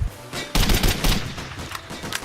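Video game gunfire from the shooter Code of Honor erupts in dense bursts of close shots, loud at first and then tapering into scattered rattling reports.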